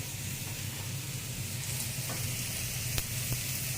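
Steady, soft sizzling of shrimp frying in a hot pan, a continuous crackling hiss with a few brief pops, moderately close.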